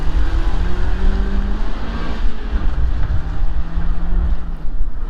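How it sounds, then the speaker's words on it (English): A Mazda Miata drives hard around a track course at a distance, its engine note rising and falling under heavy wind rumble on the microphone. "You got a Mazda Miata out there going nuts."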